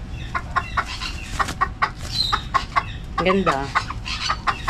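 Pet chickens, a rooster and a hen, cluck in short repeated bursts close by, one rising squawk standing out midway, while a person talks over them.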